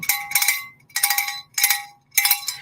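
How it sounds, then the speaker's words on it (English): A handbell rings in four bright, clanging bursts with short pauses between them, close and loud with a shimmering ring. "I have my bell."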